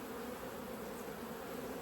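A very large honeybee hive hums with a steady, even drone of many buzzing bees close by, continuous and unbroken, with no talking over it.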